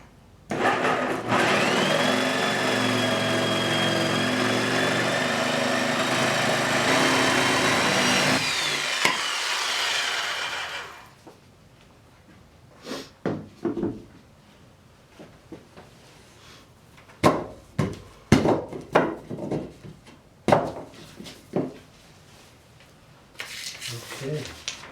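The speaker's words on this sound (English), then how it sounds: "now we're going to use a jigsaw to cut 4 corners" A jigsaw cuts the four corners of a CNK600 table top: a loud, steady motor buzz with a high whine runs for about nine seconds, then cuts off, followed by scattered knocks and handling noises.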